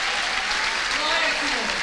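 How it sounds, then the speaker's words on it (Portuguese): Church congregation applauding during a Portuguese-language plenary session, a brief, sustained wash of clapping with faint voices mixed in. "Aplausos ao Senhor."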